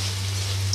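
Crab sautéing in a hot pan gives a brief, steady, even sizzling hiss over a faint low hum, with no voices.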